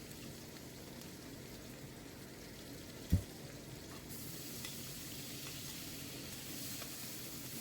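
Grated onion, ginger and garlic frying and being stirred in a pan for a pomfret curry, a steady soft sizzle throughout with one sharp utensil knock partway.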